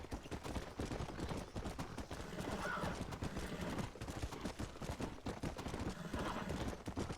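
A horse galloping across open country in Red Dead Redemption, a continuous rapid drumming of hooves, loud and close, with a brief whinny partway through.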